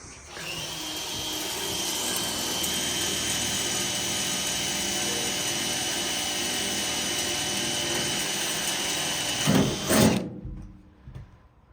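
A power drill whines steadily for several seconds at close range, drilling out holes for brackets on a mill, then winds down with a couple of louder bursts before stopping.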